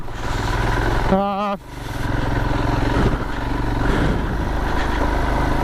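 A Royal Enfield Himalayan motorcycle chugs along a UK trail in second gear, its engine thumping steadily at close range, with a brief burst of rising mechanical whine partway through and a rider's voice briefly over it.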